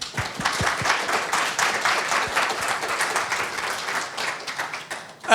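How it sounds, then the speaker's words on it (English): An audience claps steadily throughout, a dense roomful of applause that swells slightly toward the end. "So can we give Ian a round of applause?"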